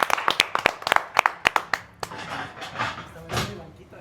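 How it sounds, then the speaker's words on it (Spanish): A handful of people clap sharply and unevenly at a program welcoming a guest, the close, distinct claps fading after a couple of seconds into room noise and faint voices. "vamos a darle un fuerte aplauso para que pase con nosotros"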